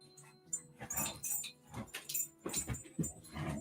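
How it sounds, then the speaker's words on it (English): Dogs fight, with snarls, yips, whimpers and sharp barking bursts coming in rapid irregular flurries at moderate level, heard without talk. "Just fighting dogs behind"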